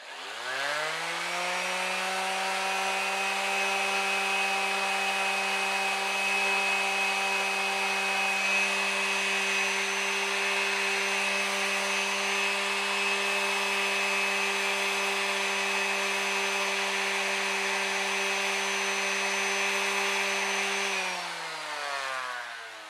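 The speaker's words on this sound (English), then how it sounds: "I'm going to jump right up to 220 with the palm sander and clean that up." A palm sander at 220 grit runs steadily on a Corian nut blank, giving a loud, continuous high whine that spins up at the start and winds down at the end. The sound is close and there is no speech.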